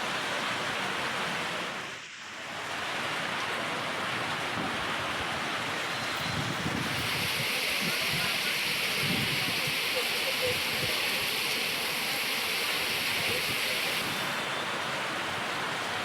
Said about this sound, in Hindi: झमाझम बारिश हुई प्रदेश में